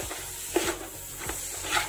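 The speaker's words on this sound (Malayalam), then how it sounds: "അപ്പൊ ഇത് ഈ മസാലയായിട്ട് നല്ല രീതിയിൽ ഒന്ന് മിക്സ് ചെയ്ത് കൊടുക്കാ" A spoon stirs beef and masala in a pot for Kerala-style kappa biriyani, with a few faint scraping strokes over a soft sizzle and no talk.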